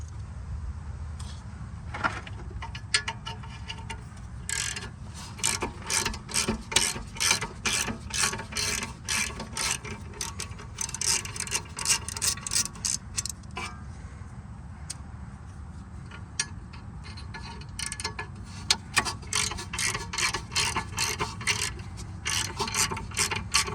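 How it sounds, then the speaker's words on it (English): A small hand ratchet spins off a loosened rear brake bolt on a Jaguar XJ8, XKR or XK8: close, loud bursts of fast clicking pawl ratcheting, repeated in quick spells with short pauses. "But to speed things up, now that it's loose, I'm gonna put the small ratchet on."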